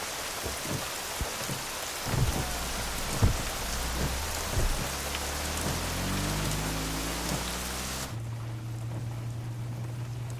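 Steady rain falls on a surface with low thunder rumbling through the middle, a few sharp cracks standing out, before the storm cuts to a quieter hum.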